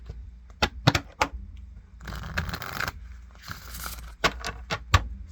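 Crisp riffling and snapping of playing cards being shuffled, with sharp clicks and a rapid flutter in the middle, close up.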